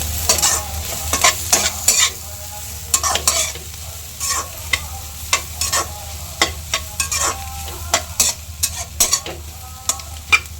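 Shredded cabbage fries in oil for egg fried rice while a utensil scrapes and tosses it, sharp irregular clatters of stirring over a continuous close sizzle.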